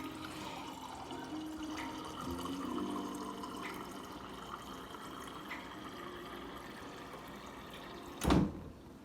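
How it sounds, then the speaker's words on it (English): Filtered water running from a refrigerator dispenser into a cup, a steady soft pouring hiss at moderate distance, ending with a short clunk, no talking. "I use my filtered water on my refrigerator."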